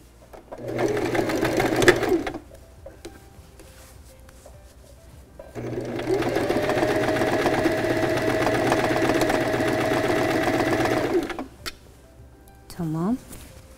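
A sewing machine stitches a simple dress in two long runs, a steady close mechanical whir broken by a pause, with a short squeak near the end.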